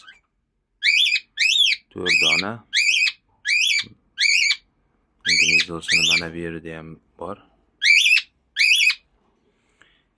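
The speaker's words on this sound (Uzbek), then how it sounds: "bu qushlar haqida Karella qushlari deyiladi, papugay" Shrill cockatiel whistles ring out in a series of short repeated calls, close by, with someone talking between some of them.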